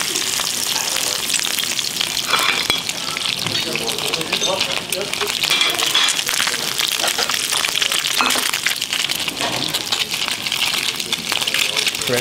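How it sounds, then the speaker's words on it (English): Sea bass sizzles loudly and steadily skin-side down in a hot pan, a continuous crackling fry throughout. "And then we start frying it to get it really, really crispy."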